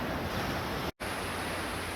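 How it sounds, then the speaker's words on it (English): Ocean surf rolls steadily onto a beach in Scarborough as a broad, constant wash of noise with a wind-like hiss, loud and close, broken only by a brief dropout partway through. "This is one of your main beaches in Scarborough."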